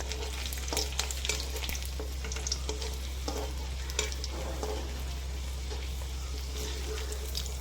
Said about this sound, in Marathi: लसूण आणि अद्रक छानसं भाजलेलं आहे